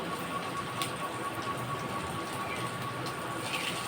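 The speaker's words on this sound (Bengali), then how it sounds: "ভেজে নেব বন্ধুরা এইভাবে করে আমি বড়াগুলো দিয়ে দেব" Small chanda fish fritters sizzle in hot oil with a steady, dense crackle and hiss, close and even throughout, with no talking.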